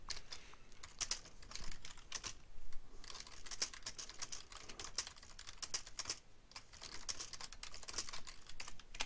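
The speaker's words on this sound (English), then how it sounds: "I can type in any text that I want." Rapid, continuous typing on a computer keyboard, close and fairly quiet, with a steady stream of key clicks and only brief pauses.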